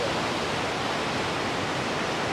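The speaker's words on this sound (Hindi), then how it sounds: "बड़ी स्पीड से पानी जा रहा है भाई" Water rushing at high speed through river headworks, a dense, steady roar of broadband noise with no breaks, loud and close with no talk.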